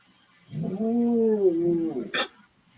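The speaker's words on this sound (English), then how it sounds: "Did you hear my dog?" A dog gives a drawn-out, wavering whine lasting over a second, close and fairly loud in a quiet room, with a short sharp noise just after it.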